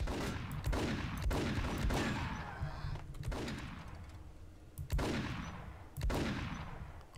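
Gunfire in a Max Payne shootout, with sharp shots spaced a second or so apart, each followed by a decaying rumble, and bullets pinging off nearby cover, moderately loud.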